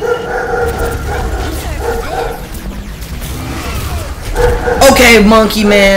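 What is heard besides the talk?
dog barking in the background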